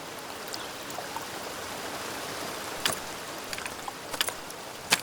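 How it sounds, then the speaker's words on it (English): A stream of rushing water flows over ice-covered rocks in a canyon, a steady, even wash heard from a moderate distance, with a few faint clicks and splashes scattered through it. "They're crossing a stream of rushing water, stepping on ice-covered rocks when Jessica's foot slides off, and down she"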